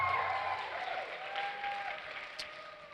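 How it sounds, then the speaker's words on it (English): Audience applause at a comedy contest awards moment, fairly quiet and distant, a soft wash of clapping with a brief sharper burst near the end. "Can you please give a huge round of applause"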